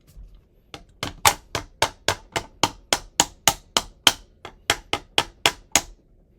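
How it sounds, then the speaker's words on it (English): A non-marking hammer taps a furniture part into place during a custom furniture installation, with about twenty sharp, evenly spaced strikes in a steady rhythm, close and loud in an otherwise quiet room. "you want to get your non-marking hammer"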